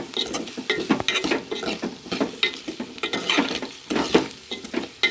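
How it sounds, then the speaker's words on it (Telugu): Okra curry with onion pieces is stirred in a pot as it boils, giving a steady scraping and bubbling patter with repeated utensil strokes against the pot, close and moderately quiet. "అడుగు అట్టకుండా మనం ఏం చేయాలి మళ్ళీ కలయి పెట్టుకోవాలి ఇట్లా"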